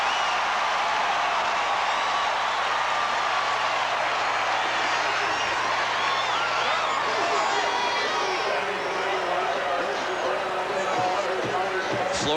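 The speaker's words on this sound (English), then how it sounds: "And the crowd starts to come alive." A football stadium crowd in a 1987 Florida State versus Auburn game swells into a broad, continuous roar, a steady wash of cheering that builds and stays loud throughout.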